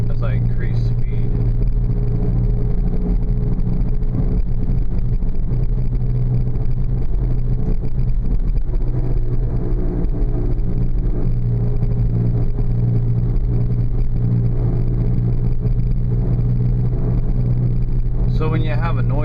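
Worn wheel bearing in a GM Venture minivan droning steadily as the van drives, a continuous low hum and road roar that swells with speed, with a brief dip partway through.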